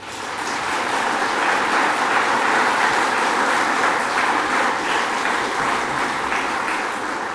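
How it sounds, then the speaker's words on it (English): Sustained audience applause at a police recruit graduation and commissioner's commencement ceremony, a steady dense wash of clapping from a large crowd lasting throughout without talk. "Can we have a round of applause for the family,"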